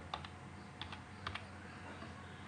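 Faint typing on a computer keyboard, a few sparse clicking keystrokes in small clusters over a quiet room hum, with no talking.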